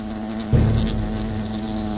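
Wasps in the video game Fable Anniversary, a steady insect buzz over a low game hum, rising suddenly into a louder, nearer swell partway through and then holding, with no speech.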